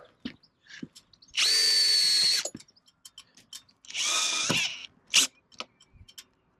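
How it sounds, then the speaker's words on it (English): Two sustained bursts of a power drill whirring at high speed, driving screws while installing an awning rail, each a second or so long, with clicks and clunks of handling in between. "Let's go a bit faster with the drill."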